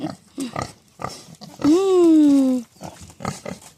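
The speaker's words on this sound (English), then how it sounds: "Big old piggy." Pigs on a homestead give one loud, drawn-out squealing grunt lasting about a second, close to the microphone, between bursts of nearby talk.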